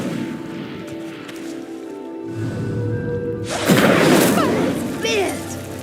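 Incendio fire spell igniting a pyre in Hogwarts Legacy: a low hum gives way to a sudden loud whooshing, crackling flare of flames that swells and then settles, with faint game music underneath.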